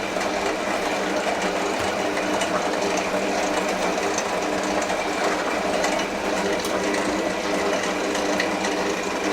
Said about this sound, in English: See how cool the machine cuts the pasta?